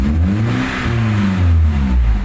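A 1997 BMW E36 316i with its 1.6-litre engine, suffering a rough idle fault, revs up in a loud, steady close-up roar that rises and falls in two swells with no talking.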